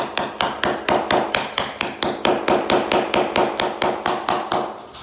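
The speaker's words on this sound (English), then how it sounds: "these are pretty tough, so you can hit them with a hammer" A hammer taps pieces into place with a steady run of about twenty sharp, evenly spaced strikes, close and loud, with no talking.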